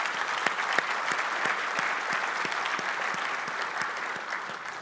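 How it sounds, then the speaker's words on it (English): A conference audience applauding panelists at a port industry forecast event, dense even clapping from a sizable crowd that holds steady throughout at a moderate distance. "Let's give them all a round of applause."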